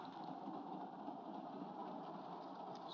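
A passenger train runs on its rails with a steady, low, continuous rumble and hiss, faint and even throughout, with no distinct clacks.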